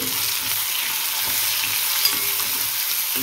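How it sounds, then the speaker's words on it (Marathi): Chopped onion frying in a pan with ginger and garlic for chhole, a steady close hiss of sizzling oil with faint stirring scrapes, unbroken and fairly loud, no voices. "कांदा पण मस्त गुलाबी परतून घ्यायचा आहे"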